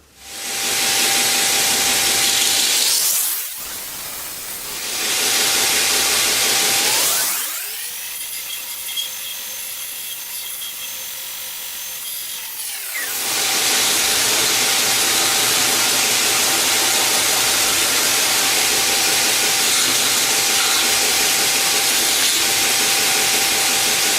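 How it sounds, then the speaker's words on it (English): A bench grinder whines loudly and steadily as wood is ground off a bushcraft knife handle, spinning up and down between passes with a sharp hissing rasp, stopping briefly twice before running continuously. "I'm just going to stick it on the grinder and then basically grind it off"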